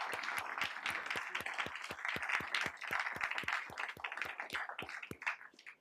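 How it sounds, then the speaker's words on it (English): A small audience at a lecture on Roman Curia reform gives a round of applause, the individual claps distinct and fairly regular, carrying on steadily before tapering off at the end. "Let's give him a round of applause."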